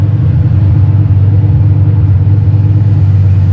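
A stock 302 or GT40 V8 drag racing car holds a loud, steady low engine rumble with a spinning tire, sustained close up with no break.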